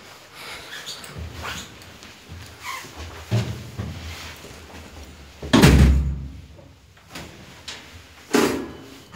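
Elevator doors at a Sokos department store slide shut with a loud thump partway through, amid busy indoor noise and a few scattered knocks and bumps.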